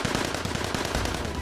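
Rapid, dense gunfire from soldiers in Assassin's Creed Chronicles: India, a continuous burst of loud machine-gun-like shots filling the whole moment with no pause.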